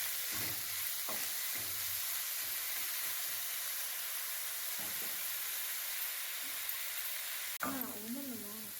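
Onions sautéing in a pan while making sardine curry, a steady frying hiss with soft stirring scrapes, and a brief louder clatter near the end.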